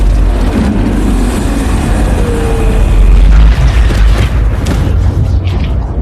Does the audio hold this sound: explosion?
yes